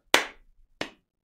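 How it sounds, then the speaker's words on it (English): Two sharp hand claps about two-thirds of a second apart, close and fairly loud in a quiet room, meant to trigger a web MIDI effect in a browser. "and that if we clap"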